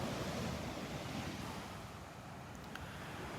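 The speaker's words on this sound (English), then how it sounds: "The surf is up again today." Ocean surf rolls onto a Gulf beach at Delnor-Wiggins, a loud continuous roar of breaking waves with wind buffeting the microphone, easing slightly midway and heard alone.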